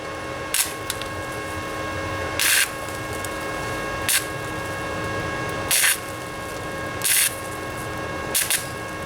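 Flux core welder lays short bursts on a patch over a Ford Ranger rocker panel, about six crackling spurts of a second or less separated by pauses, close over a steady background hum.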